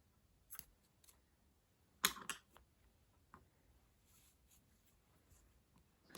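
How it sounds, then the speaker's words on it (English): Scissors snip through crochet yarn after a sunny granny square is finished: a few quiet, crisp clicks and one sharper pair of cuts, close up in an otherwise still room. "we can cut the yarn"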